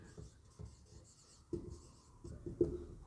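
Pen or marker writing a polynomial equation during a class 10 maths lesson, several short scratchy strokes at uneven intervals, close and fairly quiet, with no talk.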